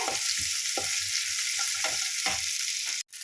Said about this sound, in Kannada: ಇದ್ರ ಜೊತೆಗೆ ಹಂಗೆ ಮೆಣಸಿನ್ಕಾಯಿನೂ ಹಾಕ್ಕೊಂಡು ಫ್ರೈ ಮಾಡ್ಕೊಳ್ಳಿ ನೀಟಾಗಿ ಫ್ರೈ ಆಗಬೇಕು